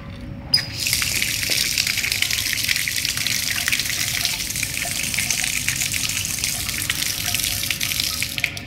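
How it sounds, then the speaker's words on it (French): Steady rush of Paris drinking water pouring from a tap, continuous and fairly close, starting abruptly after a brief moment of quiet. "C'est l'eau potable, l'eau de Paris."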